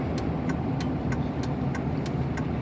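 Straight-piped 2003 Dodge Cummins diesel truck, its engine a steady loud low rumble throughout with faint periodic ticking clicks over the drone, heard from inside while driving.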